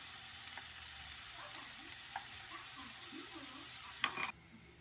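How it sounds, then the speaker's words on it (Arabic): Diced onion frying in oil in a pan, a steady soft sizzle that continues for the whole stretch with a few brief clinks near the end before it drops quieter. "نخلو هذيك البصلة تقلى مليح حتى تبدا تتكرمل"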